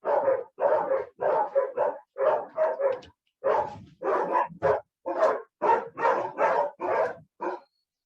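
Dogs bark in a long run of rapid, repeated bursts, loud and close, with brief gaps between volleys.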